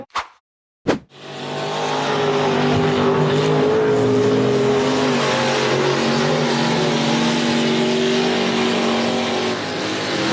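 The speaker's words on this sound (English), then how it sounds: "red buggy with a white frame accelerated hard to conquer the extremely steep sand dune" A red dune buggy with a white frame accelerates hard up an extremely steep sand dune off-road, its engine roaring loud and sustained after a couple of brief sharp bursts at the start, with no talk.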